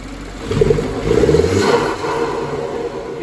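BMW G20 320i fitted with an MST air intake during a cold start, its engine rising in a revving surge and then settling into a steady, fairly close high idle with no talk over it.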